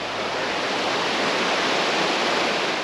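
Rock Creek flowing at a trail crossing near Rock Creek Campground in the Sierra, a steady, loud, broadband rush of moving water close by with no other sounds.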